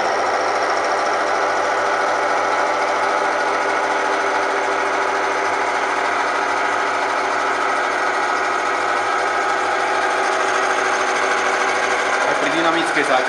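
An electric motor runs steadily under a 14 kg load, double its rated load, in a Metabond Gold test, giving a continuous dense whirring hum that stays loud and even throughout, with a brief change near the end.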